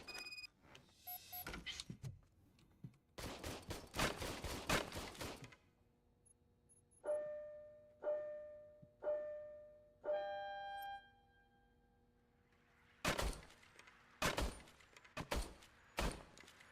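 Video game gunfire from a service weapon: dense bursts of rapid shots at the start, then several single ringing shots with decaying echoes, followed by a final loud burst of fire.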